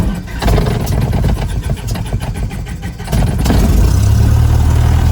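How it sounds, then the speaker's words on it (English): A Cessna aircraft engine cranks with rapid stuttering pulses, catches after a few seconds and settles into a steady, loud running drone close by. "with the Cessna's engine finally spluttering into life"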